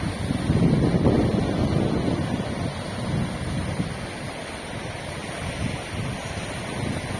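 Sea waves wash onto a beach in Visakhapatnam in a low, continuous rumble, mixed with wind buffeting the microphone; no voices.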